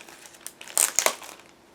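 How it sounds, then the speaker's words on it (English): A plastic bag holding decal sheets for an Eduard 1/48 Bf 109G-6 model kit is opened with a few quick, close crinkles and crackles, loudest in the middle, then quiet. "a separate plastic bag with decal sheets. Just give me a second to open them"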